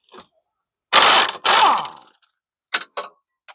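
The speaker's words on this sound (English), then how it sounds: "I'm going to use the air gun again right here." An air impact wrench loosens a stubborn rear brake bolt on a 2018 Hyundai Santa Fe Sport, with two loud hammering bursts close by followed by a few short clicks.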